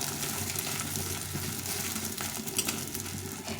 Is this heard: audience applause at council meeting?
no